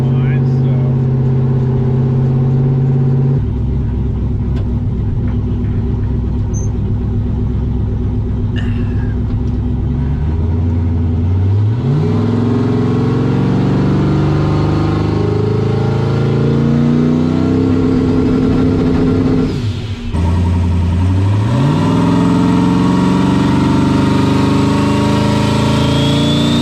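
A turbocharged LS V8 running without nitrous, loud and close, holding a rough idle before revving up in two rising pulls, with a brief dip between them and voices talking over the engine.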